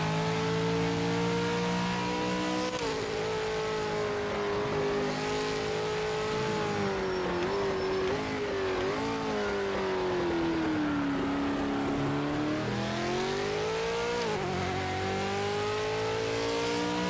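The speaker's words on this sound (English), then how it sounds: "This is such a loud car." Loud race car engine in a racing video game, continuously revving and shifting through gears for the whole stretch, with rising and falling pitch as the car accelerates and brakes.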